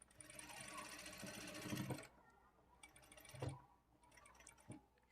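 A sewing machine stitches a blouse lining in quick, rattling bursts, loud at first and then stopping, followed by a couple of brief thumps and clicks in a quiet room.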